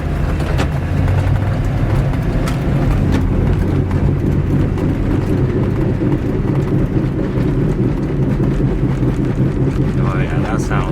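Inside a moving car with a worn wheel bearing hub assembly, a loud, constant low engine and road rumble mixes with wind buffeting throughout.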